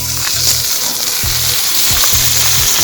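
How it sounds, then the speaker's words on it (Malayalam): Pearl spot fish sizzles steadily in hot coconut oil, a loud continuous hiss with faint crackles and low tonal thumps pulsing in the background. "കരിമീൻ പൊരിക്കാൻ പോവാണ്"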